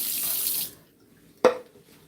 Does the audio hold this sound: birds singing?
no